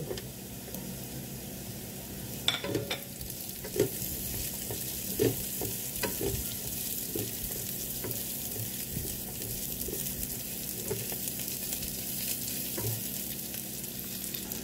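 Onions sizzle in a frying pan for pork steak, a continuous close crackling fry with scattered clicks and scrapes of stirring.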